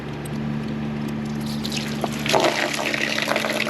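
Coolant draining from the radiator of a B6 Audi S4, a steady trickle of liquid splashing into a container in a garage, with a constant mechanical hum underneath and no talking.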